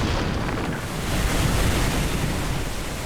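Water rushes in a continuous, dense, loud roar with a broad surf-like wash that swells slightly midway, released over a 1/50th-scale miniature Hoover Dam set, with no voices.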